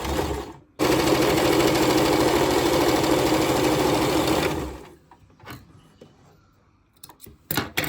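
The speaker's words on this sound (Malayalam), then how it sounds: "ഈ തുമ്പ് മാത്രം ആദ്യം ഒന്ന് അടിച്ചു കൊടുക്കാം." A sewing machine runs steadily for about four seconds, stitching the ends of churidar pant fabric, then stops, leaving a few faint clicks and handling noises.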